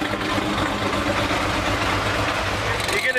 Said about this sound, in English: You get exhaust sound from all four corners of the car.